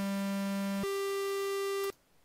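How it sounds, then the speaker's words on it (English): A buzzy square-wave chiptune synth sample in ProTracker holds one low note, then jumps to a higher one and cuts off abruptly, leaving faint hiss. "I've prepared a song called Arpeggio and the sample Chip 1"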